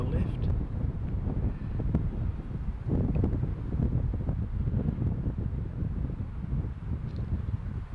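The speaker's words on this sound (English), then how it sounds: "Into the wind, which is coming into them and off the left." Steady wind buffeting the microphone on an open golf course, a constant low roar with rustling gusts running through the whole stretch, and a voice speaking faintly underneath.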